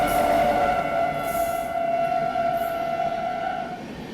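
The Thiruvananthapuram Veraval Express rolls past at Nadiad junction, a sustained loud rumble with a steady horn-like drone holding throughout, fading slightly near the end, with no voices.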